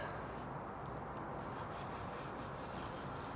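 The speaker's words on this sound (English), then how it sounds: "I've got my card scraper now, just trying to get as much of it off as possible." Steel card scraper shaving dried glue squeeze-out off a wooden workpiece in a garage shop, a continuous close rasping scrape with slight rhythmic strokes, fairly loud and without any talk.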